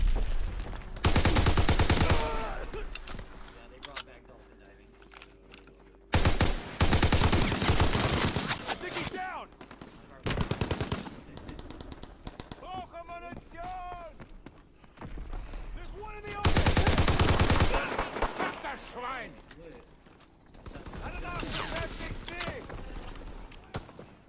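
Rapid bursts of weapon fire in Call of Duty WWII team deathmatch gameplay: loud, dense volleys recurring through the clip, with quieter stretches and voices speaking between them.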